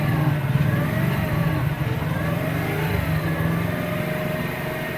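A small engine fitted with a Chinese carburetor runs steadily at a fairly loud, even idle, with a continuous low drone and slight roughness that neither rises nor fades.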